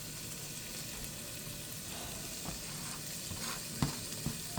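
Garlic sizzling in a pan with paprika, a steady low frying hiss with a few soft stirring clicks and scrapes.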